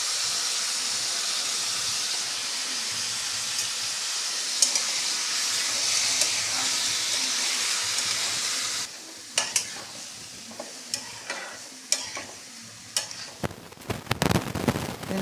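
Tomato thokku with torn tamarind sautéing in a pan, a steady loud sizzle and hiss that then breaks into irregular close stirring scrapes and spatters toward the end.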